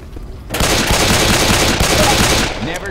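Rapid automatic gunfire in Left 4 Dead 2 bursts in after a brief quiet moment, a loud, dense stream of machine-gun shots that continues for about two seconds before tapering off.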